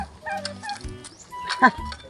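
A turkey gobbles in short bursts nearby, with other fowl calls and brief bits of people talking in Cebuano around it.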